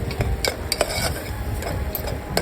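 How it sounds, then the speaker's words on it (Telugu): Tomato pieces stirred with onion paste and turmeric in a pan for a mutton head curry: repeated sharp utensil clicks and scrapes over a low sizzle, close up and without talk. "టమాటా ముక్కలు వేసుకుని కలుపుకోవాలి"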